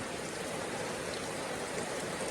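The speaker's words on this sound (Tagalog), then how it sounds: "Ang problema ngayon ay sobrang haba ng ulan pala." Heavy, prolonged rain pours in a dense, unbroken hiss that stays loud and even throughout, with no voices.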